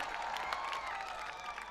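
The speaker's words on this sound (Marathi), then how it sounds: "मला वाटतं रायगडकर टाळ्या वाजवतील" Spectators applauding at a local cricket match final in Mangaon, Raigad, a brief wash of distant crowd clapping, steady and even.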